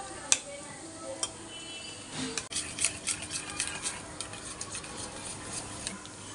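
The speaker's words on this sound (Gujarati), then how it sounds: "થોડું દૂધ નાખી અને આપણે પહેલાં સારી રીતે મિક્સ કરી લઈશું" Kitchen stirring of amaranth (rajgira) flour with milk for kheer, with soft scraping and clinking of a spoon against a pot, irregular and fairly quiet, no talking.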